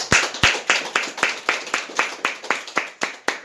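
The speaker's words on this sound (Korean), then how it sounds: "이 시간 우리 먼저 하나님 앞에 영광의 박수 한번 올리겠습니다" A church congregation claps in unison, a steady rhythmic run of about fourteen sharp, evenly spaced claps, fairly close and loud.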